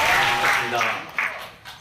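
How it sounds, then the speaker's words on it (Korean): An audience claps to welcome a venture capital CEO onto a stage at a Korean talk event. The applause is brief and moderately loud and fades out over under two seconds. "큰 박수로 맞이해주세요"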